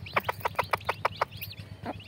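Desi hens and chicks cluck while eating rice, with a quick run of about eight evenly spaced, close clucks followed by a softer pause and one more call.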